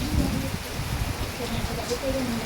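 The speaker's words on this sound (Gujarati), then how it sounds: "એટલો વરસાદ છે અને સાથે પવન પણ એટલો જ છે" Heavy rain driven by strong wind over a rural village in Deodar taluka at night, a dense steady hiss with a low rumbling undertone that stays loud and unbroken throughout.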